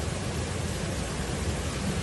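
Heavy storm rain pours down steadily in Las Parras de Castellote, Teruel, after a spell of hail, a dense and constant hiss filling the whole clip with no voices.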